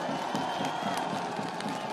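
A crowd cheers and claps continuously, a dense roar of applause with scattered shouts, fairly loud and close, at an outdoor South Korean presidential election campaign rally.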